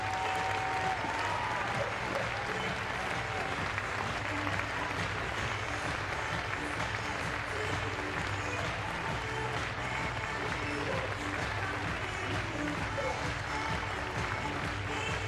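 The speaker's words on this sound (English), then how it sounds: "Give them a round of applause, all our finalists" A large indoor audience claps steadily for the finalists of the Scruffts dog show at Crufts 2014, a dense, even wash of applause that holds for about fifteen seconds.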